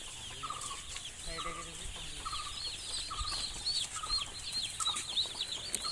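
Broiler chicks on their first day chirping continuously while being counted, a dense chorus of high, rapid peeps with occasional clucks and wing flutters close by.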